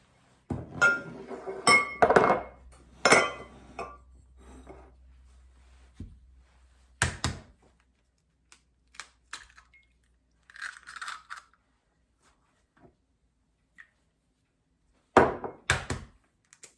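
Eggs cracked against a small bowl in a home kitchen while making zucchini bread: a few sharp clicks and taps of shell on glass, close and clear, with faint knocks and pauses between, no talking.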